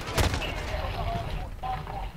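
A sharp shot from an AK-74u in Call of Duty: Modern Warfare opens the clip, followed by softer game sounds beneath a voice talking throughout.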